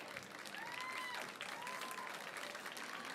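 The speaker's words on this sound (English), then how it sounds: "She deserves a round of applause." Audience at a regional television awards ceremony gives a steady round of applause, faint and distant, with a few brief whistles or cheers over the clapping.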